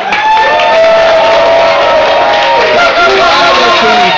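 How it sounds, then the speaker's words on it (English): A crowd claps and cheers loudly and continuously at a live roundtable in a tavern, the applause dense and close throughout. "Big round of applause."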